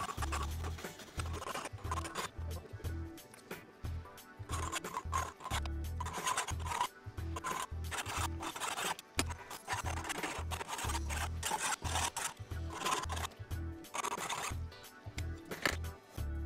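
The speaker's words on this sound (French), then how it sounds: "Il ne me reste plus qu'à réduire le surplus de soudure à la lime." Hand file rasping down excess weld on a car engine part, steady back-and-forth scraping strokes up close, continuous and rhythmic for the whole stretch with no voices.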